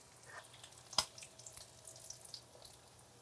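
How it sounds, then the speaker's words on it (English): Egg frying in bacon grease inside ring molds in a pan, giving a faint, steady sizzle with soft crackles and one sharper pop, close by and with no talking. "All right, so I'm gonna pour my egg in."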